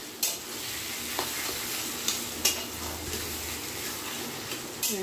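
Taro leaves (kochu shak) stirred in a pan as they fry slowly, a steady soft sizzle with a few scraping clinks of the spoon against the pan, close and clear with no talk.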